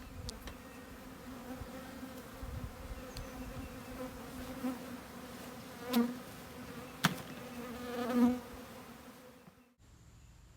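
A honeybee swarm buzzes continuously with a steady drone, a few louder passes swelling nearby before the sound cuts off abruptly at the end.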